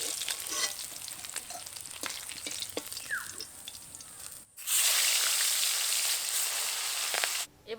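Fish fry in hot oil with a steady close sizzle, and the sizzle flares louder and brighter partway through.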